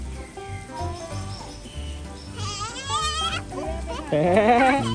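Goat bleats at a free-entry mini zoo, several wavering calls rising over a busy outdoor background, with a person talking throughout and a louder bleat near the end.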